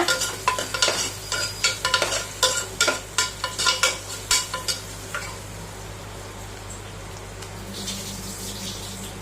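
Rapid scraping and clinking of a utensil stirring food with turmeric in a pan for brinjal gravy, with a steady sizzle of frying oil continuing underneath, no voices.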